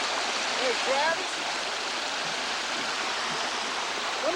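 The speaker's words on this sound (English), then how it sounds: "Shot of the creek and the way it would flow during a heavy rain." A creek runs high after heavy rain, its water rushing in a loud, steady broadband roar from nearby with no break, a few faint high chirps riding over the flow.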